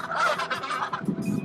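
Antarctic baby penguins shedding their down for adult plumage give loud, close, honking calls in a quick run of overlapping cries, with lower grunting notes at the end.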